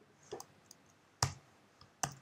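A computer mouse clicks three times at an unhurried pace while a photo of a bee on white is edited in GIMP 2.10. The clicks are sharp, close and quiet, with near silence between them.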